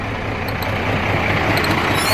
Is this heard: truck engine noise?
yes